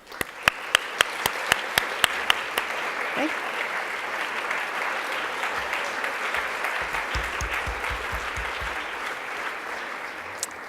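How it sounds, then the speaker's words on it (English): Sustained applause from a standing audience at an evening public leadership dinner, opening with a few sharp claps that swell into a dense, steady wash for the full stretch, with a brief spoken word near the start. "Could you please stand as we applaud the work that you're doing on behalf of all of us for climate change?"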